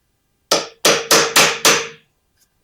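Ryobi lithium cordless brad nailer firing nails into knotty scrap wood: five sharp, loud, close bangs in quick succession, each decaying briefly, then a faint sixth at the end.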